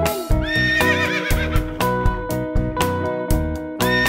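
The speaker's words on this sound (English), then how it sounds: "I hear a horse." Horse neighing in a children's nursery-rhyme song, a whinny woven through loud, steady backing music with rhythmic hits, repeated several times across the passage.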